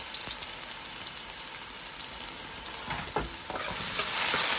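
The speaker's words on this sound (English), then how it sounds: "I'm frying the onion, so" Onion frying in oil in a pot for a curry, giving a steady dense sizzle with occasional stirring scrapes and clinks that grow slightly louder toward the end, no talking.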